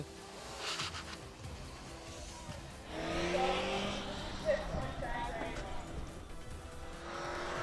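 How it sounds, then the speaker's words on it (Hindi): A rally car idles and revs at the starting line of an autocross track, its engine note rising into a louder sustained roar midway through, with a brief sharp peak, under an announcer's commentary. "एक गाड़ी और स्टार्टिंग लाइन पर मौजूद"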